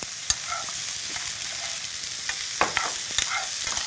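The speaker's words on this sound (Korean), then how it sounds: "채소가 이제 잘 익어지고 나면 이제 여기에다가 이제 묵을 넣고 이제 볶으시는 거죠" Vegetables and dried acorn jelly being stir-fried in a pan, with a steady sizzle and repeated scraping and tossing clicks from the utensil, no voices.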